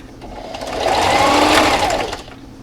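A sewing machine stitches the lining of a fabric dust mask in one continuous run, its whirring motor building up, holding at full speed, then tapering off.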